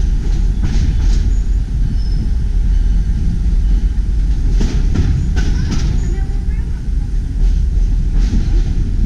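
A New Hope and Ivyland Railroad passenger train runs with a loud, steady rumble of wheels on track, with faint squeals and clanks rising now and then over the constant roar.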